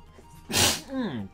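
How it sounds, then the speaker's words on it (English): One person lets out a single sharp, close sneeze during a livestream, a burst of breathy noise that ends in a short voiced tail. "Sorry, I had to sneeze there."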